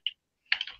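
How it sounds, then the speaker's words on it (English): A few quick keyboard keystrokes: one isolated tap, a pause, then a short burst of clattering typing, close and fairly quiet. "all I'm hearing is you typing"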